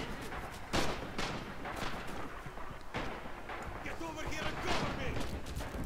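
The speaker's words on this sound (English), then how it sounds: "Where are they shooting from?" Several sharp gunshots and heavier booming blasts burst out in the Red Orchestra 2 war video game. They come at irregular intervals and sound moderately distant amid a continuous battlefield rumble, while a player talks over them.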